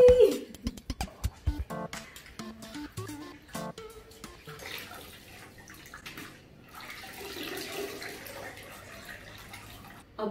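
Water runs and splashes as a pug's toy ball is washed, with early bursts of pouring and dripping giving way to a steadier, softer wash flow close by.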